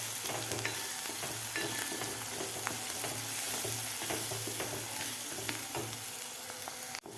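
Masala and Kashmiri red chili sauté in hot oil, giving a steady close sizzle and crackle with a spoon stirring and scraping through it throughout, and a clank near the end.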